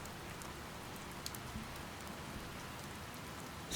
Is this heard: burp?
no